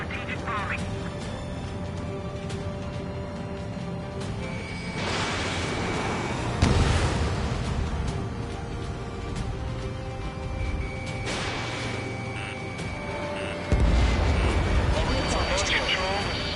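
Heavy explosions from strategic bombing in the Ace Combat 7 video game, with a few loud booming bursts that swell and fade over a steady roar of aircraft, music and radio chatter.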